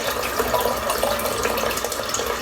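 Water pours steadily from a tap into a sink, a close, continuous splashing rush with no talking.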